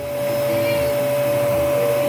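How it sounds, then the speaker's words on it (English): A vacuum cleaner runs indoors during cleanup of a cinnamon roll mess, giving a steady, loud, continuous whine and roar that holds level throughout with no speech. "Ollie, do you like to vacuum?"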